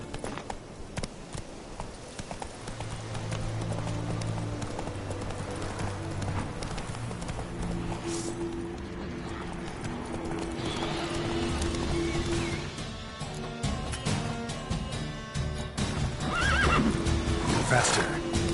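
Roach the horse in The Witcher 3 gallops with steady clip-clopping hooves and lets out repeated neighs and whinnies, loud and close over game music and sound effects.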